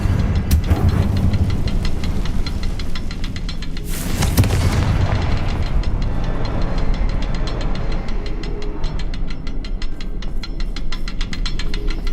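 A Confringo fire spell explosion from Hogwarts Legacy: a loud broadband blast around four seconds in, set against steady rumbling game ambience, with a few smaller sharp bursts before and rhythmic clicking after.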